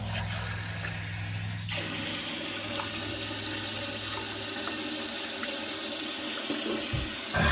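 A household tap runs steadily in a constant, close rush of water, with a low hum dropping away early and a faint knock near the end.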